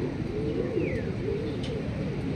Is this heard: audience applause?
no